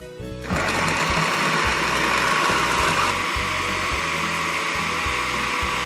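A food processor grinds jiló, a steady loud whirring motor hum with a low pulsing rumble that runs without a break for nearly the whole stretch after a short start.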